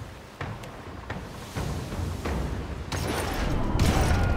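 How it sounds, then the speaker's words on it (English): Port cannons aboard a ship firing in the video game Pillars of Eternity II: Deadfire, a series of heavy booming blasts in quick succession, building into a dense rumbling fusillade. "and I'm going to fire the port cannons."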